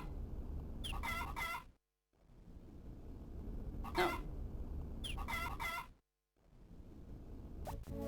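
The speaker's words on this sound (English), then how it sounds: "We hear a lot of chicken noises" Cartoonish chickens in the farming game Harvest Moon: Friends of Mineral Town cluck and crow in repeated short bursts over a steady game backdrop, broken by brief silent gaps.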